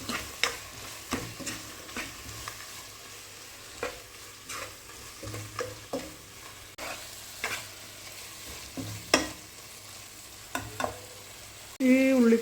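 Spice powders being stirred into an onion-tomato masala in a pan for mutton kurma, with a soft steady sizzle and regular scraping strokes of a spoon near the microphone.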